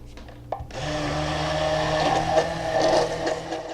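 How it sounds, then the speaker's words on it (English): A hand blender starts after a brief click and whirs steadily in salad dressing, a loud continuous buzzing drone with slight changes as it mixes. "What I'm doing with my hand blender is allowing air to get pulled into this."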